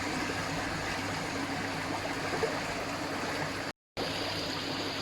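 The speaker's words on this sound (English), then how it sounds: "Open up the waste valve" Water drains from the opened waste valve of an Evolution Aqua Eazypod pond filter as a steady close rush, with one brief silent gap, and no one speaking.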